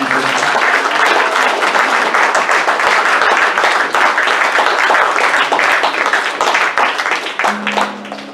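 A church congregation claps steadily in sustained applause during a White Sunday morning service, loud and full, tapering off slightly at the end.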